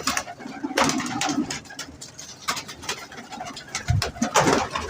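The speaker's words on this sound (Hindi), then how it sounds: "ये कौन सा कबूतर है? चीना कबूतर है ये?" Chinese (cheena) pigeons coo steadily and close by, layered throaty calls rising and falling throughout with soft fluttering and rustling in the loft.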